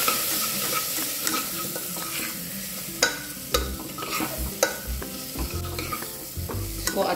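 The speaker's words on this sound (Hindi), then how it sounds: "अब इसको अच्छे से मिक्स कर लेंगे।" Spiced food with kitchen king masala being stirred in a hot pan, the spoon scraping steadily over a continuous close sizzle, with a few sharper clinks against the pan.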